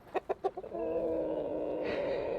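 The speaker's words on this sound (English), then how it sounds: "We rounded these roosters up earlier today, all 15 of them." Fifteen Bielefelder roosters: a few short, loud clucks in quick succession, then a sustained raspy crowing call holding steady close by, with no talking.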